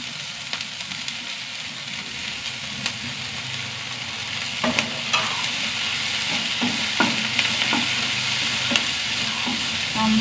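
Okra (lady's finger) fries in a pan with browned onions and a pinch of turmeric. A steady, loud sizzle continues throughout, and occasional clicks and scrapes from the stirring spoon sound close by.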